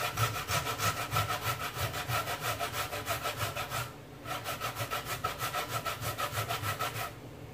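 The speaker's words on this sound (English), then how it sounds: "So you're just going to grater it like this." Cassava for Jamaican-style fritters is grated by hand on a grater, making close, loud, rhythmic rasping strokes in a quick steady beat. The strokes stop for a short pause midway and then resume at the same pace.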